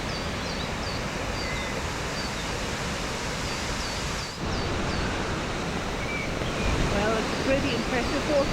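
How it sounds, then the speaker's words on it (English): A 75-metre waterfall at Golling, Austria, heard close as a loud, dense, unbroken roar of falling water, steady throughout with faint high bird chirps above it and no talking. "Pretty impressive waterfall."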